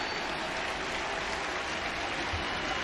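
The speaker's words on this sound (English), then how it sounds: "Crowd getting noisier." Baseball stadium crowd at a Rays vs Blue Jays game: a fairly quiet, distant wash of murmuring and scattered clapping that holds at an even level throughout, with no talk over it.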